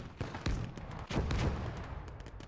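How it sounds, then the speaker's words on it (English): Machine gun fire rattles in the World War II game Gates of Hell: Ostfront during a German defence, with rapid irregular bursts of shots and cracks layered over a rumbling battle background, moderately distant. "I need to deal with that machine gun,"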